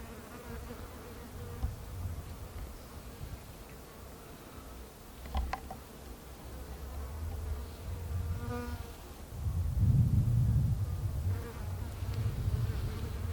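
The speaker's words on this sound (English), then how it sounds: "This is a bombyliid fly, a bee fly, visiting these flowers for nectar." Bees and a bombyliid bee fly buzz around flowering manzanita in spring, a continuous close insect drone with shifting pitch and swells as they pass near.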